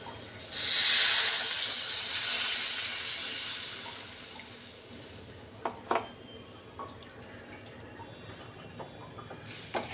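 Water poured into a pan of lote fish curry (Bombay duck jhol) that has been sautéed down, giving a loud steady hiss and sizzle for a few seconds that fades out, followed by a few faint clicks and clatters.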